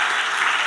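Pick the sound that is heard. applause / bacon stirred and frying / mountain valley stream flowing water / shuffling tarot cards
applause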